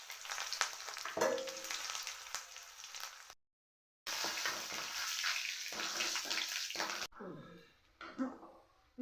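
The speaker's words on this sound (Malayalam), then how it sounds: "നമുക്കതിലേക്ക് കടുകിട്ട് കൊടുക്കാം. ഇത് ചെറിയുള്ളി, മുളക്, കറിവേപ്പില." Mustard seeds, shallots, chili and curry leaves sizzle in hot oil with a loud, steady frying hiss, broken by a brief silent gap, then crackling and fading into softer spatters.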